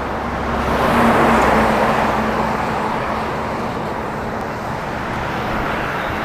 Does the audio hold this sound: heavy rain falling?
no